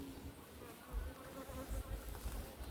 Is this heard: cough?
no